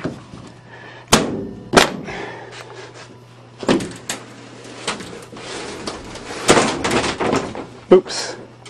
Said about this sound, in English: Volkswagen door latches